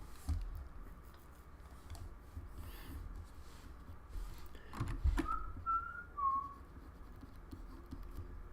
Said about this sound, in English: It's so hard not to whistle